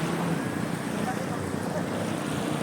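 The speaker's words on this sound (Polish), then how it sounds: "No teraz akurat są fale, bo skuter wodny przejechał" Constant washing rush of small waves stirred by a passing jet ski lapping at a sandy beach, blended with gusty wind buffeting the microphone.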